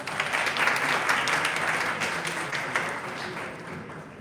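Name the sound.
audience applause at conference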